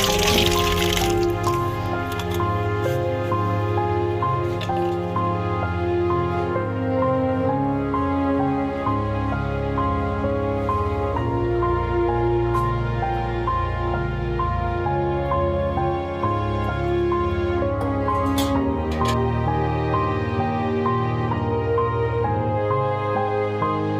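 Cut vegetables are washed in water at home, with continuous splashing, dripping and trickling as they are stirred and rinsed, close and steady throughout.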